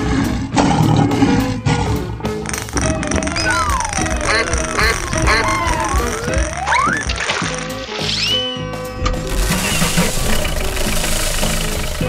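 A cartoon lion roars amid a dense, busy soundtrack of rumbles and sweeping effects, loud and continuous for about twelve seconds.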